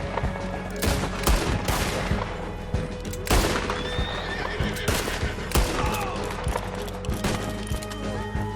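Horses whinny loudly during mounted combat in Red Dead Online, their neighs cutting through repeated gunfire bursts and hoofbeats, close and busy throughout.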